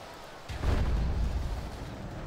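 A volley of missile fire in the Third Age: Total War video game, a dwarf army of Khazad-Dûm at Mount Gundabad, bursts into a deep rumbling boom that swells and then slowly fades.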